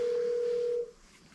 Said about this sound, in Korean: 아픈 딸에게 전화를 걸어봅니다